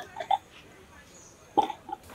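An elderly woman gives a few soft, short coughs, two brief bursts separated by a quiet pause, faint and close in a quiet room.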